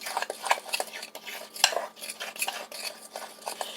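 Banana fritter batter of mashed banana and all-purpose flour is stirred in a bowl, a utensil scraping and clinking against the sides in a quick continuous rhythm, close and fairly loud with no talking.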